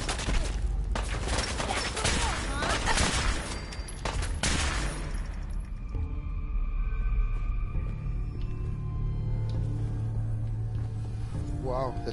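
Rapid bursts of gunfire in Fallout 4 on survival difficulty, dense and loud for the first five seconds, then thinning into sparse shots over a steady low hum, with a voice talking in places.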